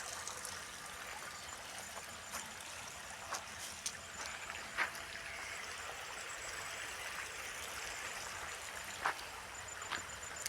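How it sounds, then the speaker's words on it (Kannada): Irrigation water runs into a jowar field in Bidar district, a steady outdoor wash of flowing, trickling water heard at moderate distance with no talking. "ಜಮೀನಿಗೆ ನೀರು ಬಿಡ್ತಾ ಇದ್ದಾರೆ"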